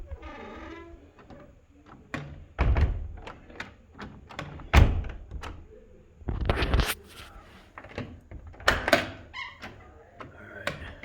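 Car door being shut after its latch was moved down a quarter inch; several close, dull thuds and knocks land among lighter taps and handling noises, with a couple of heavier slams standing out.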